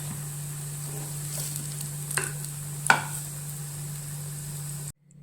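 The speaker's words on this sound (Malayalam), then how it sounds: "ഇനി ഓരോന്നെ മറിച്ചിടാം. ഷാലോ ഫ്രൈ ആയാൽ മതി" Banana cake pieces shallow fry in a pan with a soft, steady sizzle, broken by a few light scraping taps of a utensil turning them, before cutting off abruptly to silence.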